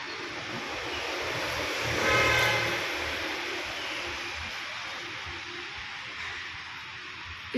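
A metro train passes on MG Road in Bangalore, a steady broad rumbling roar that swells around the middle and then holds amid the city's background noise.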